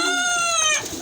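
A pigeon in a loft gives a short, resonant coo, close and loud, with a few smooth gliding tones fading into quiet room noise.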